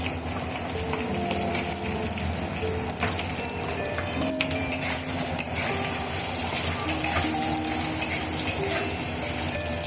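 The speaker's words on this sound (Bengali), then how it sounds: "এইবার আমি আদা দিয়ে দিলাম, বেটে রাখা আদা, আর ডুমো ডুমো করে কেটে রাখা পেঁয়াজগুলো দিয়ে দিলাম" Ground ginger paste and diced onions fry in hot oil for cauliflower Manchurian, giving a steady, loud, dense sizzle with occasional scraping stirs, and no voices over it.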